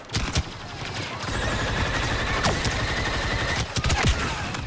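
Rapid blaster fire crackles through a Star Wars Battlefront 2 battle on Endor, as repeated sharp shots over steady background combat noise with no talk.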